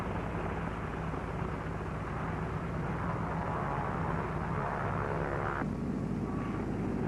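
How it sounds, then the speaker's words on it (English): Steady, loud roar of Navy F6F fighter plane engines during catapult launch from an aircraft carrier flight deck, a broad rushing drone that shifts in pitch near the end. "Navy F-6F mother control planes are catapulted from the carrier's flight deck."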